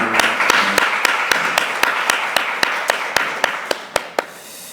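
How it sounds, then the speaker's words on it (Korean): A church congregation at a Sunday worship service claps in a steady, rhythmic beat, each clap sharp and evenly spaced over a low room murmur, growing a little more pronounced toward the end. "잠깐 일어나 주시면 우리 박수로 격려하겠습니다"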